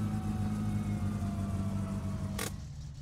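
The Satsuma car in My Summer Car idles with a steady, low mechanical hum that runs close and constant, ending with a brief burst of noise near the end.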